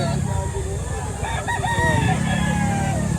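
A rooster crows at a gamefowl farm in Batangas, one clear crow rising over a busy background of clucking and other fowl, fairly close, with faint voices nearby.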